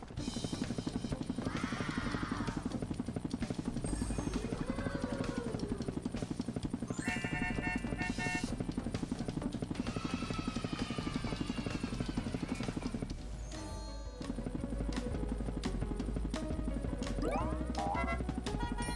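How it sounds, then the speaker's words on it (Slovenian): A cartoon rescue helicopter sounds its rotor as a fast, steady chopping whir, carried along under lively background music and effects, with one brief dip in the middle. "Rešil bom avto z reševalnim helikopterjem."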